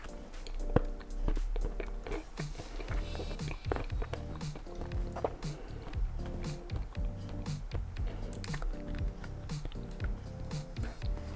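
Someone chews a toothpaste tablet close to the mouth, with repeated crunching and soft chomping bites over several seconds under faint background noise.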